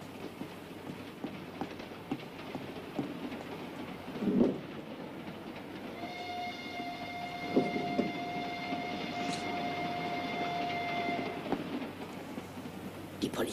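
A train runs steadily with a low rolling rumble and faint clicking of wheels, while a sustained tonal whistle or horn-like sound rises in the middle and a voice briefly speaks over it.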